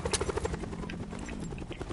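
A helicopter flies with a continuous, fairly faint rotor drone, and a voice briefly sounds over it.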